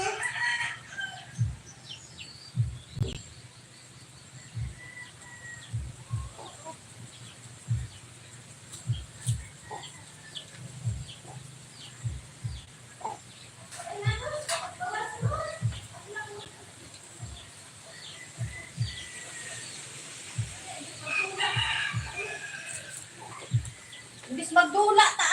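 Chickens cluck and scratch about nearby while a rooster crows intermittently, with scattered soft footsteps and a voice speaking now and then during feeding.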